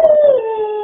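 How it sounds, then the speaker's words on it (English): A dog gives one short, loud, close howl indoors with a baby nearby, a smooth tone that slides downward and then holds steady, with no talking. "Good howl, Sophie."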